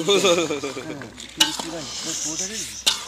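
Desi village chicken sizzles in a hot pan while being stirred in a West Bengal village kitchen, with a steady frying hiss and utensil clinks under lively nearby talk.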